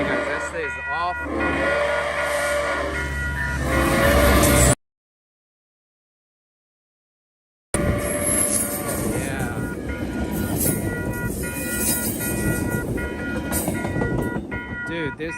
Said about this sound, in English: I feel like the train's coming.